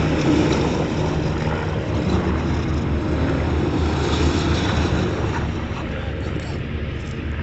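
Argo amphibious eight-wheel vehicle, tracks removed, driving on wheels in a winter outdoor display, a steady broadband engine drone and rumble running throughout at constant loudness, with wind noise and crowd sounds mixed in.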